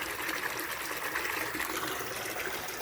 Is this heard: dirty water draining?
yes